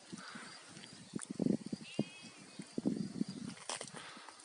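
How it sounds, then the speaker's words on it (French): Sheep bleating from a field across the street, in short, repeated calls at moderate distance outdoors. Light background noise runs underneath. "Donc on entend les moutons, je sais pas si tu les entends, ils sont juste de l'autre côté là."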